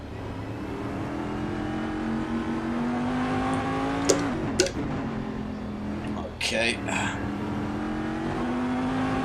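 A roughly 550-horsepower race car engine in the USCC mod for a racing video game drones steadily with a rising pitch, broken by a few sharp clicks and brief speech.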